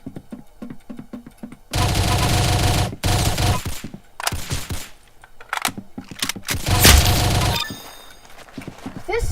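Bursts of rapid video game gunfire crack out loud and close, alternating between long sustained volleys and short gaps, with sharp shot transients and no voices.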